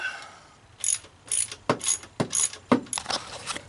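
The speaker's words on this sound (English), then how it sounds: "Alright, we're going to loosen this top bolt." Close, loud ratchet clicks loosening a bolt on the engine of a 2003 Honda Civic during head gasket work, coming in about eight short rapid bursts of ratcheting over a quiet background with no talk.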